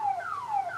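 A Viper car alarm sounds a loud, close electronic warble, its pitch sweeping repeatedly downward in quick looping cycles, heard alone.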